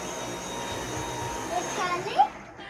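A vacuum cleaner sweeping a carpet, a steady whining drone close by that swells and wavers as it moves, while someone talks under the noise.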